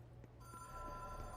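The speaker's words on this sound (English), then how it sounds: "Oh good, the phone's ringing." A telephone rings inside the video game Control, a steady electronic bell tone with a faint rhythmic pulse, heard alone at low level with quiet background hum.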